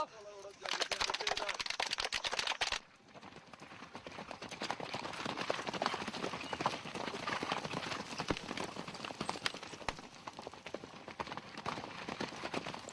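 Horses ridden by military cadets clip-clop steadily over a busy, noisy background, with a brief louder passage at the start before the rhythmic hoofbeats continue.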